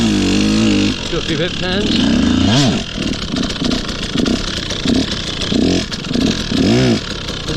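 A two-stroke dirt bike engine, KTM 150, Beta 200 or Sherco 125, revs loud and near in rising and falling bursts over several seconds while a rider talks over it.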